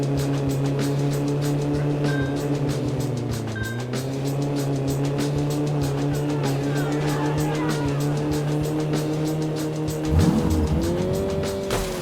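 Game car engine sounds with FMOD adaptive vehicle sound design: a steady, tonal engine drone holds at a constant pitch with faint tire squeal, then the revs climb sharply near the end. No one speaks.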